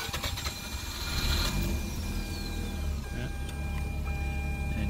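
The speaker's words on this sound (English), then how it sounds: "So go ahead and fire it up, Tim." Supercharged Mazda RX8 rotary engine starting up, a brief cranking burst then a steady, loud idle running close by without talk.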